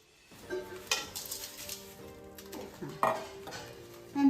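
Beaten rice (avalakki, poha) tipped into a bowl in a home kitchen, heard as several light dry rattling pours with clinks of dishes and utensils, moderately close, no talking.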